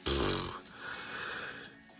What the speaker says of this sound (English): I'm starting to yawn